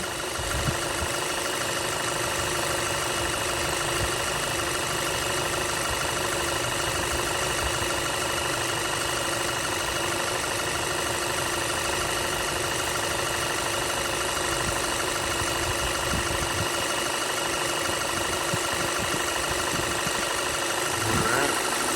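A 2009 Volkswagen Tiguan SE 4Motion engine idles steadily up close under the hood, a constant mechanical hum with a faint ticking texture that never changes in pitch.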